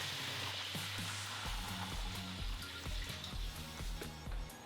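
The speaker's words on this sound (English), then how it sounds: "Then we want to add 1 liter of liquid." Chicken stock being poured into a pot for a coconut curry seafood laksa, a steady liquid splash and trickle heard alone at moderate volume over several seconds.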